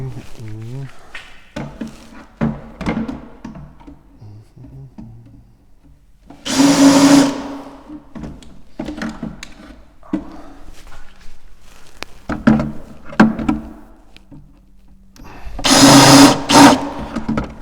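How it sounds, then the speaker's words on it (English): A power drill countersinks screw holes in a wooden tabletop, two loud whirring bursts separated by quieter shop noise and someone talking. "We'll do our countersinking."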